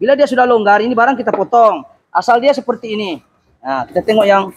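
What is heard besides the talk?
No everyday noise stands out behind the speech.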